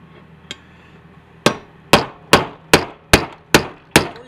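A hammer taps a bearing driver to seat a bearing in a Honda GX160 engine crankcase: one light tap, then seven sharp, evenly spaced metallic strikes close by in a quiet workshop.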